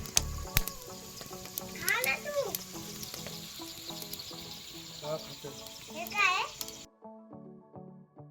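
Potatoes frying in a pan give a steady sizzle throughout, with a voice and other talk over it before the sound cuts off near the end.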